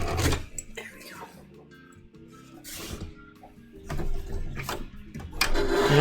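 A domestic sewing machine runs in short stitching bursts with whirring, rattling mechanical texture, stopping and starting between pauses, with a voice talking nearby.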